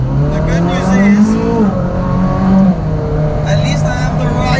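A Ferrari Speciale sports car engine drones and rises in pitch while driving in traffic, heard from the cabin, with someone talking over the steady engine note.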